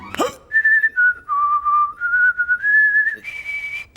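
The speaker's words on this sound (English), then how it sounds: "I can whistle with my butt." A clear, loud whistled tune of sliding held notes, changing pitch every half second or so, ending on a higher sustained note.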